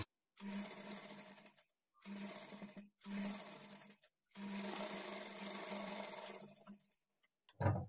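A sewing machine stitches a blouse lining cloth in four bursts of steady motor whirring separated by brief silences, ending with a low thump.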